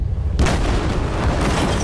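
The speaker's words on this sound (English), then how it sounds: "Oh my god, the toilet blew up." In Apex Legends, a toilet explodes in a bathroom with a sudden loud boom that is followed by a sustained rumbling blast.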